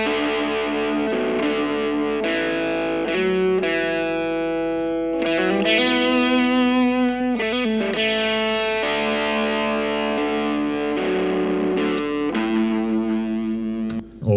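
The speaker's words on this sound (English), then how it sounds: "Let's listen to the lead guitars with the spring reverbs in solo." Soloed lead electric guitars drenched in Twangstrom spring reverb, sustained melodic notes and bends ringing with a splashy, echoing tail, played continuously and alone with no talking.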